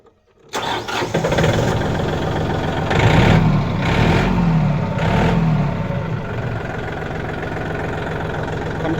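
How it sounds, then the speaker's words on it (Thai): A Yanmar 39-horsepower tractor's diesel engine cranks and catches, then settles into a loud, rough idle with three quick revs in a row, running alone with no voices. "เดี๋ยวติดเครื่องให้ฟังนะครับ ติดเครื่องให้เบิ้ง"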